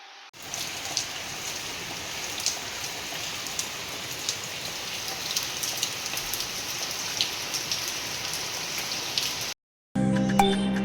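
Steady rain falls outside, a dense continuous patter on surfaces heard from indoors in Bhubaneswar, with scattered louder drops and no voices, cutting off abruptly near the end.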